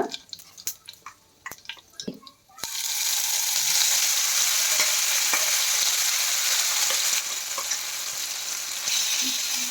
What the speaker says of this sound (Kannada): ಈ ಕಾಯಿ ತುರಿ ಇದೆಲ್ಲ ಕಲಸಿಟ್ಕೊಂಡಿದೀವಲ್ಲ ಇದು ಹಾಕ್ಕೊಳ್ಳೋಣ